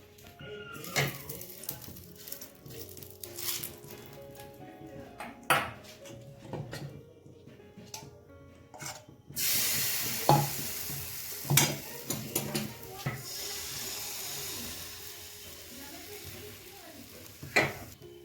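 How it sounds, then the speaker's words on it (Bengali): Rice-flour patishapta crepes cooking in a pan: quiet kitchen sounds with scattered utensil clinks and scrapes, then a louder sizzling hiss entering halfway, close by, with occasional voices. "এখন পাটিসাপটা রান্না হচ্ছে, পাটিসাপটা করছে, চলো দেখাই।"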